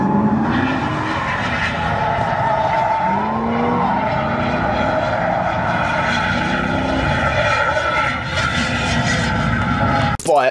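A car drifting with a high, wavering engine whine and tire squeal, loud and continuous, ending in a sudden sharp burst as a brand new tire comes off its rim.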